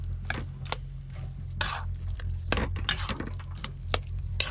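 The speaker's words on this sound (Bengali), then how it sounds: "দেখুন ভালো করে কিন্তু আমি মিশিয়ে নিয়েছি" Vegetable chop ingredients being mixed in a pan, with soft scraping strokes and occasional clinks over a steady low hum, close and moderately quiet, no talking.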